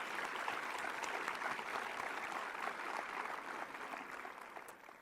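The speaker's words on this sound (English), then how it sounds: "So let's please give all of them a warm applause." Conference audience applauding the volunteers, a steady dense wash of many hands clapping that holds loud for about five seconds and thins slightly at the end.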